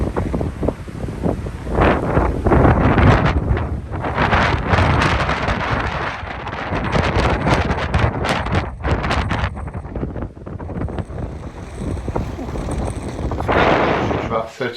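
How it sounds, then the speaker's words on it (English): Strong gusting wind buffets the microphone on a mountain road in Norway, loud rumbling low roar surging and easing in waves for the whole stretch without letting up. "the weather at the minute, it's really gusting out there"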